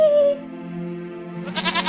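A single drawn-out goat bleat from a video game with a wavering, nasal tone, followed by a brief rattly burst, fairly loud and close with no talking.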